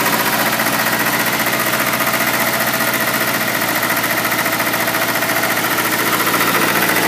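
An Allis Chalmers 920 diesel engine idles with a steady, loud, even chugging rumble and slight rattling vibration, running alone without voices.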